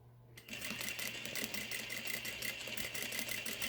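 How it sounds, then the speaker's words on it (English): A sewing machine stitches a slant pocket seam close to the fabric edge, starting after a brief quiet moment and then running in a fast, steady, close-up chatter with no voices. "So let's just go ahead and I'll sew this for you."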